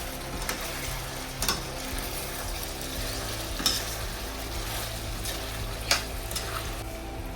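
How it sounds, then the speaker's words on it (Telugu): A spoon stirs mango chicken curry with raw mango pieces in a pan, a steady close sizzle and scrape broken by a few sharp clicks of the spoon against the pan. "ఇంకా మంచిగా కలిపేసుకుందాము."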